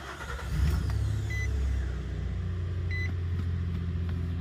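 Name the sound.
Nissan truck engine starting and running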